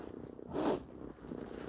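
A cat purrs close by outdoors on a snowy, rainy day, a soft low rumble that swells briefly and fades against quiet background noise.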